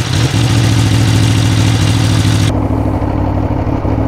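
A motorcycle engine runs loudly at close range with its exhaust valve closed, a steady, deep mechanical drone that keeps an even level, its upper hiss dropping away partway through.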